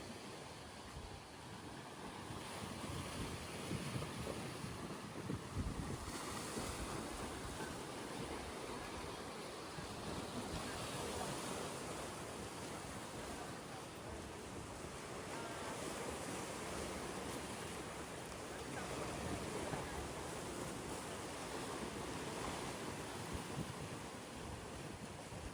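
Steady roar of ocean surf and gusting wind on a Boracay Island beach in the Philippines, continuous and fairly loud, with heavy wind rumble buffeting the microphone and no voices.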